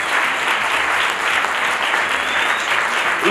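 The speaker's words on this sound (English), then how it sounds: "Don't stop clapping." Steady, dense applause from a large crowd at a presidential welcome event in Zambia, sustained and loud throughout with no pauses.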